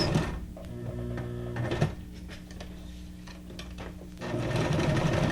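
A sewing machine stitches twice around a piece of paper ephemera for a junk journal, giving a steady, close mechanical whir with a brief pause and slight change near the middle.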